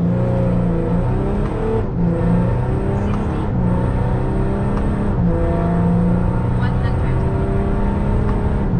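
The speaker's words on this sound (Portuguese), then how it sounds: "Vou sair uma de segunda, porque como ela tem as marchas muito curtinhas, pode ser que o resultado venha melhor saindo de segunda." Volkswagen Amarok V6 pickup, stage 2 tuned, launching hard in second gear, its engine revving up through several gear changes with brief dips between pulls, close and loud throughout, with some talk in the background.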